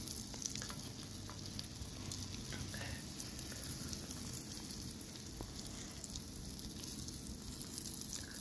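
Rainbow trout sizzles steadily in a cast iron pan, a close, even crackle of hot fat that runs unbroken with no one talking.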